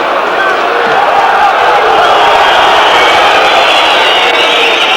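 Dense, roaring football stadium crowd at a 1996 UEFA Cup night match between Olympique Lyonnais and Nottingham Forest in Lyon, a loud sustained wash of chanting and whistling with no break.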